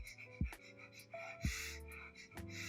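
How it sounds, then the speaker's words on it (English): Quick, soft sniffs through the nose in short in-and-out bursts, like a panting dog, close and quiet with pauses between them. "sniff with just your nose very quickly, like in and out like a dog, like a panting dog"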